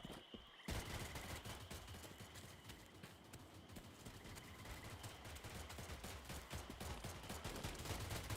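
Dense, crackling bursts of distant gunfire in STALCRAFT: X pop continuously in rapid volleys, faint and far off, with no pauses.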